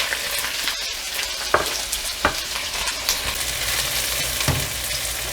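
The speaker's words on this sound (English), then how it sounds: "The oil is nice and hot there now. In goes the onion, pepper and pimento." Onion, pepper and pimento fry in hot oil with a loud continuous sizzle, broken by a few scraping stirs of the pan and no voices.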